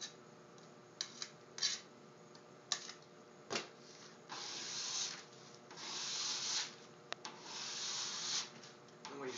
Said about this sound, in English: you wanna constantly be scraping the scraper, getting the wax off the edge of the scraper, and getting the wax off of the board